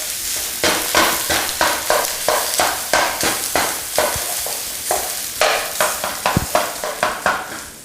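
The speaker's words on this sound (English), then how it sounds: "all you're going to do is brown your meat. Use a spoon to sort of break it up a little bit." Sausage meat browns with a steady sizzle in a non-stick pan while a wooden or soft plastic spoon scrapes and breaks it up in quick, rhythmic strokes, close and loud.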